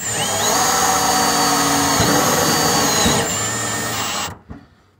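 A power drill driving screws whirs steadily at high speed for about four seconds, then cuts off abruptly, leaving near silence.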